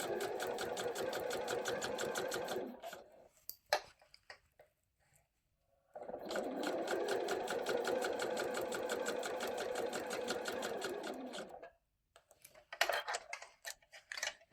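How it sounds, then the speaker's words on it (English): A sewing machine stitches a zipper pouch in two long steady runs of rapid rhythmic clatter, separated by a pause and followed by short bursts of stitching and handling, close and with no talk. "Nice straight stitching down to the next mark."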